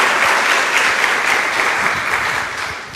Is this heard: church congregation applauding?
yes